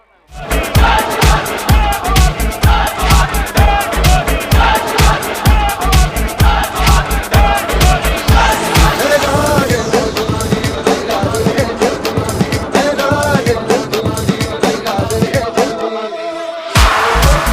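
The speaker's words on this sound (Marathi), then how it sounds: "काय जल्लोष पाहायला मिळतो जीजी स्पोर्ट निशांत इलेव्हन वाकलन टीमच्या समर्थकांचा." Supporters of the GG Sport Nishant XI Waklan team celebrate after a match win at a local cricket tournament in Nevali Pada, a loud crowd roaring and shouting over pounding rhythmic drumbeats that continue steadily throughout.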